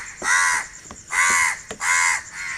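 Several crows caw loudly nearby at dawn, three harsh calls in a steady rhythm with a short gap between each.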